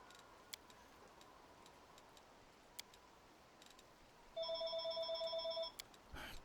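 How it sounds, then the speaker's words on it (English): A telephone ringtone rings out for about a second of pulsing electronic tones, clear against a quiet room that otherwise holds only faint scattered clicks. "Of course the phone starts ringing."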